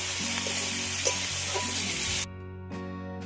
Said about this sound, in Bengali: সবজিটা ভালো করে কষিয়ে নেবো